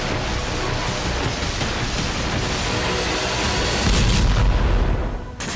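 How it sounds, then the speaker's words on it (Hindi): Explosions from attacks on Crimea sound as deep, rumbling booms over continuous low roaring noise. A heavier blast swells near the end before the sound fades. "इसके बाद क्रीमिया के अलग अलग इलाकों में धमाके सुने गए।"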